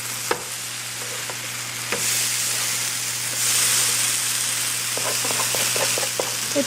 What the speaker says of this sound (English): I am flipping them again.